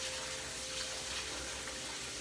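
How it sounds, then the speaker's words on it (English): A kitchen sink tap runs steadily into a sink holding a used spatula, a continuous close hiss of flowing water with no talk. "Run some water in there."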